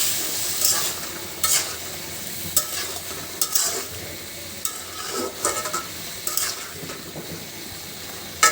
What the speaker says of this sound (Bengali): ঢাকনা খুলে একটু নাড়িয়ে দেই।